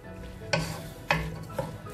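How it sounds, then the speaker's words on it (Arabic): Onions frying in a pan while being stirred, for a potato and meat dish, a steady close sizzle broken by three distinct scraping knocks of a utensil against the pan, with no talking. "نحرك البصلة لتدبل."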